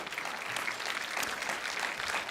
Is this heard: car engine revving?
no